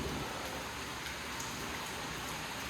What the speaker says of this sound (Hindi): देखो, यहाँ से बारिश का पानी आ रहा है